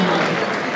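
A brief burst of dense applause from a blues festival audience in Torrita, steady crowd clapping heard alone.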